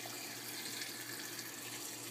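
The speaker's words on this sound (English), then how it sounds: "I'll use hot water because these are frozen vegetables, so just fill it up" A steady, rushing stream of hot water from a sink tap filling a container for thawing frozen vegetables, close and continuous with no talking.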